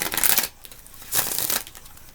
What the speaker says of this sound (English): Hope the shuffle isn't too loud for you,